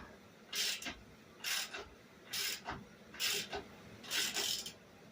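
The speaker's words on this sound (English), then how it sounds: "Every one of these turns is creating a new thread." A bolt cutting a new thread as it is turned into a mower part, heard as five evenly spaced rasping, grinding scrapes, each about half a second long, close up and fairly quiet with no talk.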